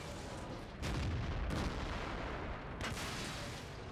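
Artillery and tank guns fire in a World of Tanks battle, with several heavy booms spaced a second or so apart over a constant rumbling background.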